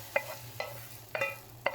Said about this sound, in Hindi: ये तड़का जो बनाया था इसमें हम डालते हैं